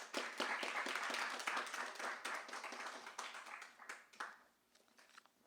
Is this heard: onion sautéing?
no